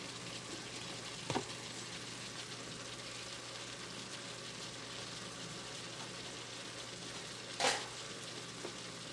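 Peppers fry in a hot pan with a steady, even sizzle from start to finish, broken by two brief louder spits or scrapes.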